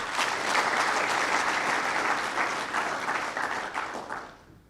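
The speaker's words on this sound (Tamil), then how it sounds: "எனக்கு இந்த கைத்தட்டல் பிடிக்காது" An audience at a talk applauds, a thick, even wash of clapping from many hands that holds steady and then fades away toward the end.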